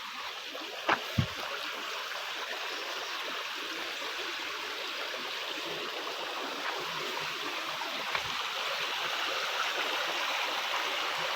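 A village stream rushes over rocks, a steady broadband wash of flowing water heard close and continuous, with a few faint splashes and knocks.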